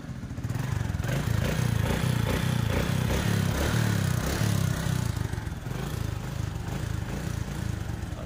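A Honda XRM 125 motorcycle engine starts and runs with a steady, loud, close putter, its single-cylinder idle holding continuously throughout.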